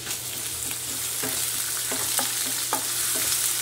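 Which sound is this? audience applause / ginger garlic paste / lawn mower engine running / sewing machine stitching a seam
ginger garlic paste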